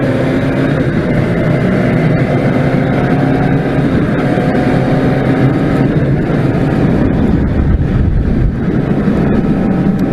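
A motorcycle engine runs while warming up, a loud, close, unbroken drone with steady rumble throughout and no voices.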